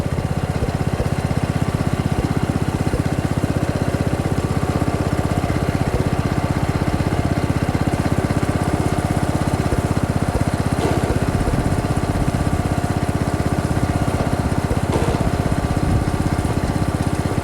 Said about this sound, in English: you can see better what the discs are doing and how the tractor is working and pulling